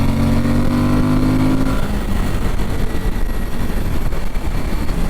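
Engine of a Suzuki V-Strom 1050 motorcycle on the road, riding in third gear at about 70 mph: a loud, steady drone mixed with heavy wind rush, with no voices.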